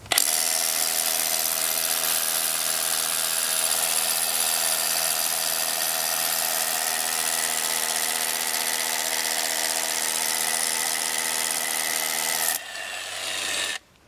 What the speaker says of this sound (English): Moving straight onto hammer drill.